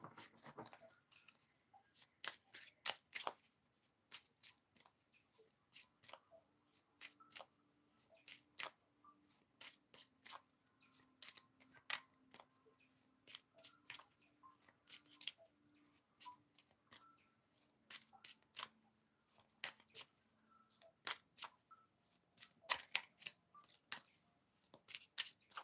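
Tarot cards are shuffled and dealt off the top of a deck during a live reading, making quiet, close, irregular riffling flicks and snaps throughout, with faint tones in the background.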